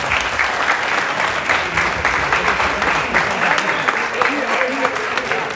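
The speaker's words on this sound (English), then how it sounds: "I would love to ask everybody to give these folks an amazing round of applause." A crowd at an artist grant reception claps enthusiastically, dense and continuous applause filling the whole stretch at close range.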